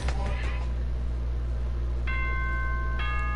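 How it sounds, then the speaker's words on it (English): Two-tone electronic chime of a morning announcement in a video game, two clear bright tones a second apart over a steady low hum, following a brief meow-like cry at the start. "Ding dong bing bong."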